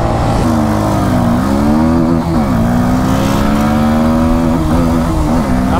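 A Royal Enfield Hunter 350 and a 2024 Bajaj Pulsar NS160 drag race, their engines roaring loud and close in a continuous rev with pitch dips at gear shifts.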